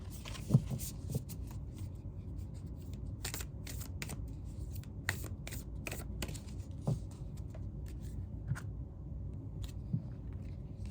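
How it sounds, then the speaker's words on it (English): Tarot or spell cards are shuffled and handled at close range in a quiet room, a steady run of soft riffling and papery taps with a few sharper flicks, no talking. "let's get you a couple magical spell cards"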